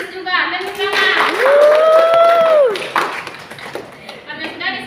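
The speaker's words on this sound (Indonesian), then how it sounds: "Tepuk tangan." Students in a classroom clap their hands together in a short burst of applause, while a teacher's sustained voice rings out over the clapping.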